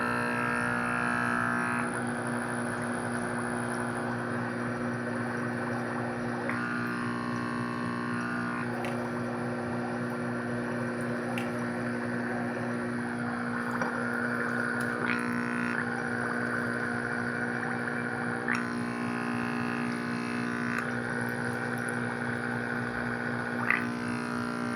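Repaired aquarium air pump running, a steady electrical hum with a buzzing vibration, continuous and close, broken by faint intermittent rattles.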